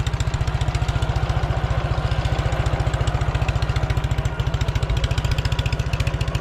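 Dnepr MT 11 motorcycle engine running steadily after a cold start, a loud, even, rapid chugging beat with a slight knock, close by and without speech.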